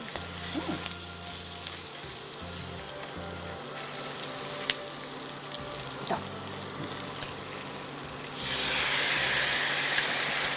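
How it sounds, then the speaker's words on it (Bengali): Mutton fries lightly in a pan with a soft, thin sizzle and a few scattered clicks and clatters of utensils, followed near the end by a brighter rush like a running tap; fairly quiet throughout, no talk. "জাস্ট একটু হালকা ফ্রাই করে নিচ্ছ"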